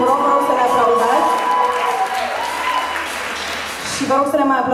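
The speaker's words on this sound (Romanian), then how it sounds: "Vă rog să ne aplaudați." Audience applause breaks out during a Romanian talk show, a broad wash of clapping that swells in the middle and is framed by voices speaking over it at the start and end.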